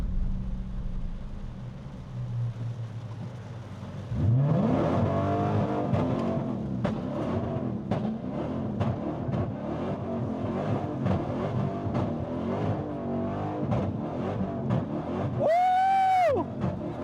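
A Dodge Hellcat on rain-soaked pavement roars into hard acceleration, spinning one rear wheel in a one-wheel peel, its loud engine surging and holding high revs for over ten seconds before a sharp rising rev at the end.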